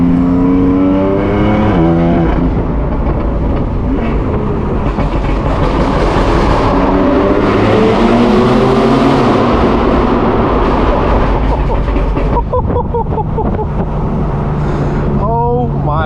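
A 1000 hp BMW M4 F83 convertible accelerates hard with a loud aftermarket exhaust, its engine note rising and falling through gear changes and roaring close up.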